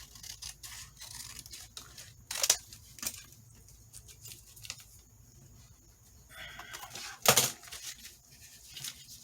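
Scissors cut paper down to size for a handmade mini journal. A few crisp snips and rustles stand out against a quiet room, the loudest two coming several seconds apart.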